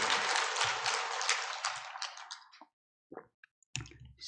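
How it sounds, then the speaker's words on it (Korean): A church congregation bursts into dense applause that rolls for a couple of seconds, then cuts off into near silence broken by a few scattered knocks and a final thump. "우리 하나님께 영광의 박수를 한번 올렸으면 좋겠습니다"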